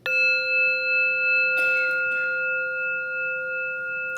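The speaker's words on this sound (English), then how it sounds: "And we'll hear one sound of the bell to end this guided meditation." Single strike of a meditation bell, ringing out with a clear sustained tone that slowly decays over several seconds in a quiet room, followed by a soft rustle partway through.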